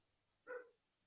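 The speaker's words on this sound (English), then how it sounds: "sorry about the dogs in the background." A single short dog bark, muffled and distant, rings out briefly against a quiet room with nothing else happening.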